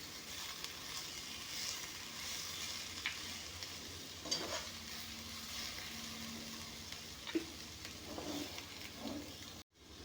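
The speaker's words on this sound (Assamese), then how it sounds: "অলপমান লাৰি দিম মাছখিনি।" Fish pieces coated in spice powder stirred in a frying pan, a steady soft sizzle with scraping strokes throughout and a brief cutoff near the end.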